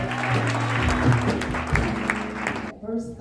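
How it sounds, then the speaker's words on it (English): A church congregation at a youth retreat claps along in a sustained, steady burst while music or voices continue underneath, then the clapping drops away near the end. "Come on, clap your hands and celebrate"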